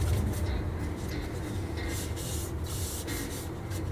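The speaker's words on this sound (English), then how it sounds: "just give it a little bit of a nice rub down" Steady, soft abrasive rubbing over a painted 1/48 MiG-17F plastic model kit, a continuous close scratchy texture with slight rhythmic swells throughout.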